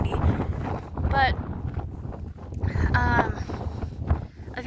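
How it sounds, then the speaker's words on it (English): Outdoor wind buffets the microphone in low, uneven rumbling gusts that come and go beneath a woman's speech. "sorry, it's kind of windy"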